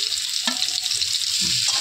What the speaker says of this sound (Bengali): তেল দিয়ে এবারে এই আলুগুলো একটুখানি ভেজে নেব, সেদ্ধ আলুগুলো।